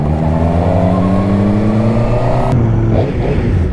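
A Kawasaki H2R or Suzuki GSX-R1000 motorcycle engine revs hard and loud and steady, with a rising pitch, then eases off after a sharp change partway through.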